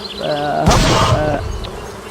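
Buzzing wasps in the Moorhuhn XS shooting video game drone loudly in a sustained, harmonic insect whine, with a sharp gunshot-like burst partway through, and no voices.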